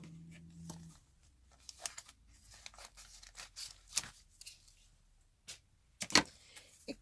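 A sheet of Evergreen plastic styrene is cut open by hand with scissors, giving a series of close, sharp snips and crinkly tearing sounds spread across a few seconds in a quiet room.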